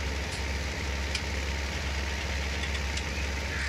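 A tractor engine in Farming Simulator 19 runs in a steady, even drone while spreading across a field, droning continuously with no pauses.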